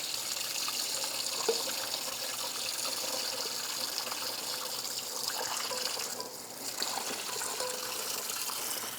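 Hot water gushes from a kitchen tap into a sink in a home kitchen while burger grease is being drained. The rushing stream runs continuously and close, dipping briefly near the end, with no talking.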